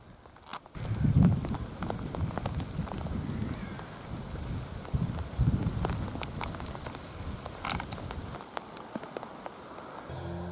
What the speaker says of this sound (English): And once again, it started raining.